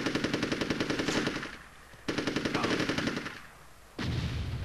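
Rapid automatic gunfire from the video game Army Men: Sarge's Heroes, loud and close, coming in two sustained bursts with a short lull between them and a third burst starting at the end.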